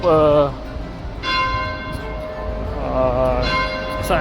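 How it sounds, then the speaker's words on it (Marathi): A church bell rings out in a town square in France, its long tolls ringing in overlapping strokes over steady outdoor street noise, with a voice talking at the start and again near the end. "या साईडला आता चर्चचा घंटा वाजत आहे, बेल वाजत आहे"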